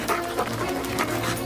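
A dog in a French drama film gives a few panting, whimpering yips close by, short bursts over a steady background, with no clear full barks.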